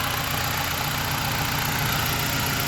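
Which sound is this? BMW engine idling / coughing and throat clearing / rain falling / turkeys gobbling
BMW engine idling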